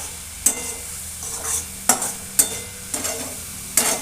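Repeated scraping strokes as a spoon stirs a thick dried-prawn chutney in a pan without water, with soft sizzling underneath and no voices.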